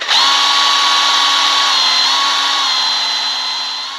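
A power drill whines loud and steady up close, boring a pin hole through a hand-forged knife handle for about four seconds, the pitch holding level as it bites through.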